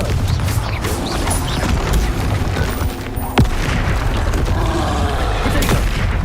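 A Confringo blasting spell goes off in Hogwarts Legacy amid dense, continuous game combat noise, with one sharp, loud burst standing out near the middle over a rumbling low-end background.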